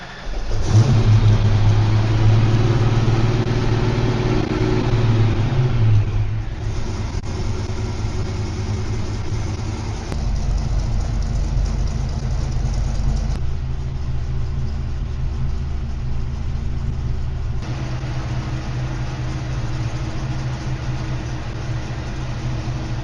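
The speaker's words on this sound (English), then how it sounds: "the stupid car started by itself and idled right out of the box" A 1986 Ford Mustang Fox Body engine with a Holley Terminator X setup runs steadily close by, a loud revving burst at the start settling into a continuous idle rumble with no talking.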